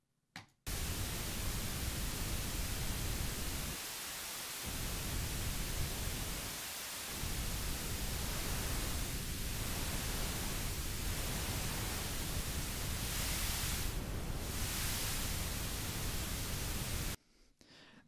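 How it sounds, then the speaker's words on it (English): Steady pink noise runs through a modelled guitar amplifier tone stack, a broadband hiss held at constant level with two brief dips and a faint swell near the end, no voices. "I'll go ahead and demonstrate just using some pink noise"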